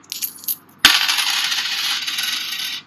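Coins dropped onto a surface, a few light clinks, then a bright scattering jangle that rings on and fades slowly, loud and close with no talking.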